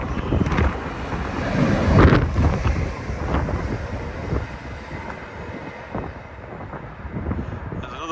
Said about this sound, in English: Northern service heading towards Leeds, which has got a Transpennine service right up its rear end, because it's a bit late.